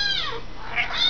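Two thin, high munchkin kitten meows, one sliding down and another rising shortly after, close and fairly clear over a light background hiss.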